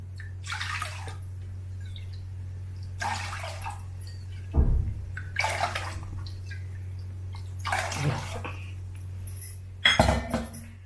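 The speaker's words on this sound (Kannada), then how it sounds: "ಆ ಲೋಟದಲ್ಲಿ ಐದು ಲೋಟ ನೀರು ಹಾಕ್ಕೊಳ್ತಾ ಇದ್ದೀನಿ" Water pours in five separate glassfuls into a metal pressure cooker, each pour splashing briefly, with occasional clinks of metal over a steady low hum.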